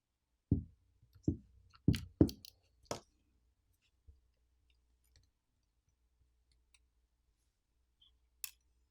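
A coaxial cable connector is popped off a Ulefone Armor 24 phone board, giving a few sharp close clicks and snaps early on, then faint scattered ticks in near silence.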